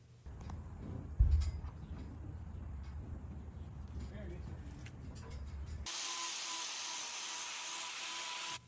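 A bull's left rear hoof with a white line problem is trimmed: rough scraping and a thud come first, then a loud, steady high whir from a power tool starts near the end.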